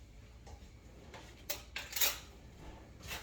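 Soft clinks and scrapes of a metal spoon against a bowl as it mixes chicken with sweet soy sauce, garlic and ground pepper, a few sharper knocks near the middle, quiet and close.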